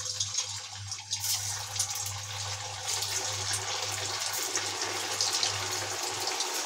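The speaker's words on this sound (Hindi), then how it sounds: "और अब मैं इन्हें फ्राई करने के लिए डाल दूंगी। हमारा ऑयल गरम हो चुका है" Sabudana tikki, tapioca pearl patties, fry in hot oil over a low flame, giving a steady, close, hissing sizzle that barely changes, over a constant low hum.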